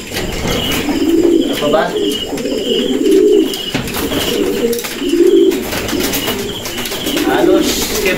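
Pigeons in a stockbreeder's loft coo in repeated low, rolling phrases that swell and fade every second or so, close and loud, with scattered chirps and someone speaking briefly over them.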